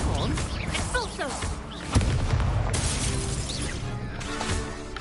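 Blasting spell explosion in Hogwarts Legacy: a booming burst with crashing debris amid dense game combat noise, a person speaking over the fight.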